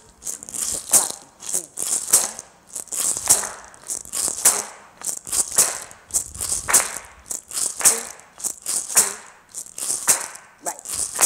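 An audience claps together in a steady rhythm, the sharp bright hand claps repeating at regular intervals for the whole stretch, loud and close, with no one talking over them.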